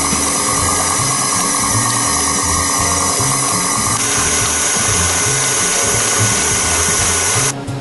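An electric mixer whirs steadily while beating butter into a macaron filling, a continuous mechanical drone with a rhythmic churning pulse and no talking.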